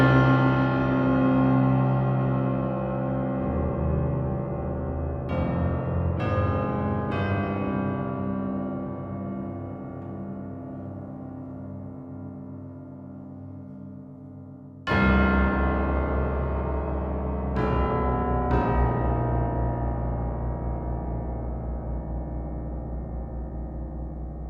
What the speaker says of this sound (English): Let's check out what the low bells and pianos sound like.